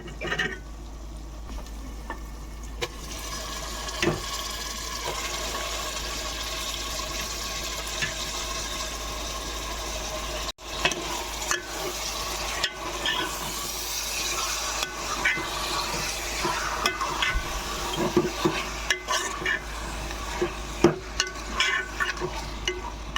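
Chicken pieces stirred into fried onions in a pan for a home chicken curry, with a steady close sizzle of frying under repeated scraping and stirring strokes, alone without talk.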